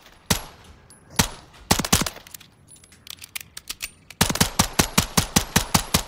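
Beretta M9 pistol firing in Call of Duty Modern Warfare III, sharp loud gunshots at a long-range target: isolated shots, then a burst of evenly spaced rapid shots with no talking.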